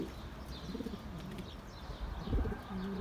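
Pigeons coo softly in short low murmuring phrases, with faint chirps and a brief rustle near the end, over a steady background hum.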